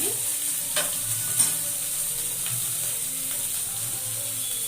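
Steady sizzling of onions and tomatoes frying in a pan, with occasional stirring scrapes and soft clicks, close and continuous.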